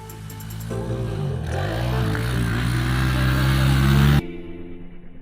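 A Honda 110 pit bike ridden on a pit bike track, its small engine droning close and loud with pitch rising as it revs up, then cutting off abruptly.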